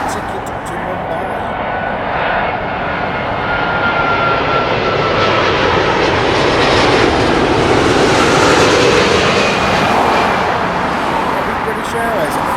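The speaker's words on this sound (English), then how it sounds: "British Airways A350 is coming in from Mumbai." A British Airways Airbus A350 airliner landing at London Heathrow, arriving from Mumbai, with a broad, loud engine roar that builds gradually to a peak and then eases slightly, steady and close throughout.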